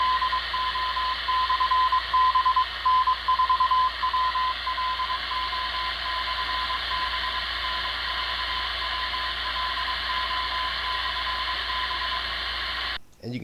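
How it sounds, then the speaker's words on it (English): Morse code beacon N4WLO from Alabama, picked up over a long distance on the 10 meter ham band, sounds as a steady keyed tone, fading and wavering inside loud continuous radio static and hiss for most of the span. "this N4WLO Morse code beacon is a station over in the state of Alabama"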